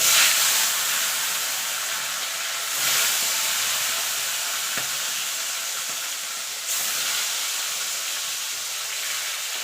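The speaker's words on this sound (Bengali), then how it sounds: "এবার আমি এক এক করে মাছগুলোকে ছেড়ে দেবো" Tilapia pieces frying in hot salted oil in a wok give a loud, dense hissing sizzle throughout, swelling briefly each time another piece is slipped in.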